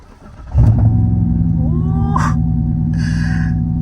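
A Corvette engine cranks and roars to life, then settles into a steady, loud idle with a low rumble close by.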